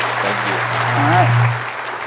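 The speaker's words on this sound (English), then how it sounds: "Everyone, give these two a round of applause" Applause from a keynote audience at a tech conference, a steady broadband wash of clapping with a low hum underneath and faint voices mixed in, holding level for about two seconds.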